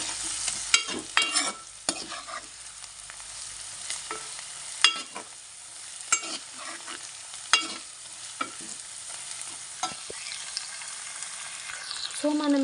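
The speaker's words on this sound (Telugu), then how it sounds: "అల్లం కూడా పచ్చివాసన అంతా పోయే వరకు వేయించుకోవాలి." Ginger sizzles in a pan of mutton curry while a spoon stirs it, a steady hot frying hiss broken by sharp scraping strokes, with no voices.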